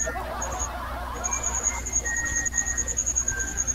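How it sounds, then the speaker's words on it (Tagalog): Crickets chirp outdoors in a high, thin, pulsing trill that starts in short bursts and then runs almost continuously, fairly clear over a low background murmur. "Malakas pa ho yung kuliglig nila"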